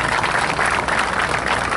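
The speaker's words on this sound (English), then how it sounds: "Everybody give Liz a big hand of applause." Brief, steady applause from a crowd at a ceremony for the final steel piece of the RWJBarnabas Health Center, a dense wash of clapping with no pauses.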